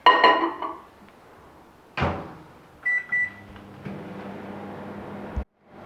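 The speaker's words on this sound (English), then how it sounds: "Now we need to put it in the microwave for 1 minute." A microwave door thuds shut and a short beep sounds, then the oven hums steadily, heating a mug cake, for a couple of seconds before a final clunk.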